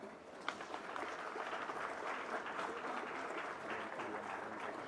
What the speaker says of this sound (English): Please join us in giving him a big round of applause.